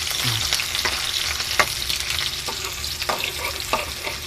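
Adobo being stirred as it fries in a pan, with garlic browning. A steady dense sizzle runs throughout, broken by scraping and clinking utensil strokes, close and fairly quiet.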